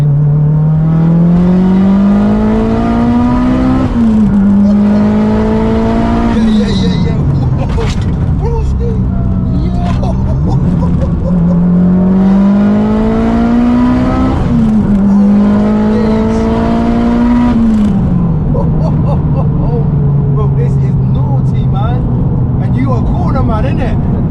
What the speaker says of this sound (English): It literally sounds like a jet fighter with the turbos coming down the road